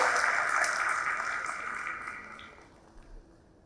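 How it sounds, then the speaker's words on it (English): An audience at a university campus inauguration ceremony in Dubai claps loudly at first, then the applause gradually fades away. "Let's give them a big round of applause"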